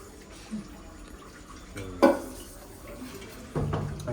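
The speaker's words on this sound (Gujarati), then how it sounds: "અહીંયા વાસણ ધોવે છે બા" A grandmother washes dishes at home, with soft clinks of pots and utensils, a sharp clatter midway and running tap water, faint and fairly close under a quiet background voice.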